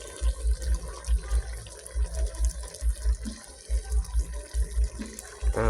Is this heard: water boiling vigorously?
yes